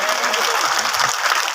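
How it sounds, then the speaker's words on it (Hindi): A crowd at a Shrimad Bhagavat Katha religious gathering in Vrindavan claps loudly to welcome a guest: a dense, steady wash of applause with voices mixed in, filling the whole short stretch. "एक बार जोरदार तालियां बजा करके उनका भी स्वागत करें।"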